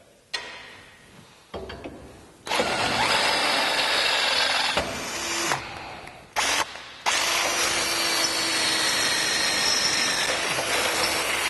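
A power drill bores holes for the roll cage bolts on a Jeep JK. It comes in loud bursts that start and stop several times, with short pauses between runs.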